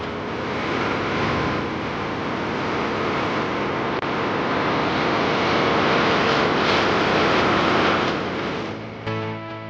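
A light snowmobile engine drones steadily and loudly for the whole stretch, a broad, continuous roar that swells slightly before easing off at the very end.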